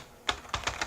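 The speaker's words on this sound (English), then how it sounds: "And then I could just click somewhere and start typing." Keys click in quick succession on a computer keyboard. Four crisp, close taps follow a brief quiet moment.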